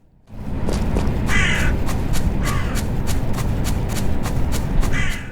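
Crows caw repeatedly in bursts through a night forest in the survival city-builder game Nested Lands, over a steady rustling wind bed, the harsh calls spaced irregularly and fairly close.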